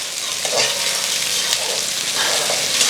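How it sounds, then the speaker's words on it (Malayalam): Ginger, garlic, green chili and curry leaves sauté in oil on a high flame for a lemon pickle, making a loud, continuous close sizzle with faint periodic stirring. "നമ്മുടെ ഇഞ്ചിയും വെളുത്തുള്ളിയും പച്ചമുളകും കറിവേപ്പിലയും ഏകദേശം ഒരു 3 മിനിറ്റോളം ഹൈ ഫ്ലെയിമിൽ നന്നായി ഒന്ന് വാട്ടിയെടുക്കണം"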